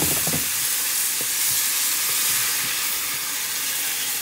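Salsa hitting hot oil with rice in a pan, a loud steady sizzle and hiss of frying that runs unbroken throughout, close up with no voices.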